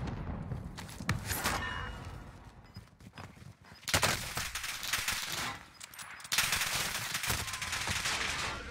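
Video game gunfire from a battle royale tournament match, with bursts of rapid shots and single cracks arriving in several clusters, some close and loud, others quieter, under occasional faint player voices.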